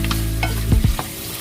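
Shrimp and lemons sizzling loudly in a pan for New Orleans style barbecue shrimp, a dense close crackle with a few stirring knocks partway through.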